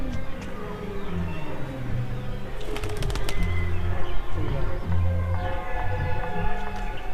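A pigeon is let go outdoors, giving a short burst of fluttering and clattering around the middle, with bird calls against a steady, busy outdoor background.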